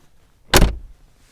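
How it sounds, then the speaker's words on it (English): A Mercedes-Benz G-Class G500 door shuts once with a solid, heavy, close thud that decays quickly into quiet. "Amazing sound when the door closes."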